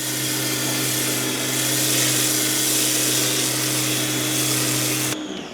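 Stanley SXPW25CDSS high-pressure washer running with a rotary mud nozzle, a steady loud motor drone with a constant spraying hiss that continues unbroken and cuts off abruptly near the end, no talking.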